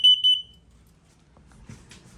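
Two short, piercing electronic beeps from a carbon monoxide and propane leak detector alarm in a 2022 Keystone Montana 3761FL RV sound in quick succession, then quiet with faint shuffling.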